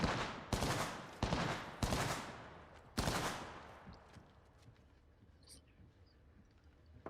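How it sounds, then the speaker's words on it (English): Several loud, sharp bursts of video-game gunfire crack in quick succession near the start, each trailing off with echo. A quieter stretch follows with faint scattered shots and small noises. "Getting shot. Someone's got a death wish. I am taking fire, friends."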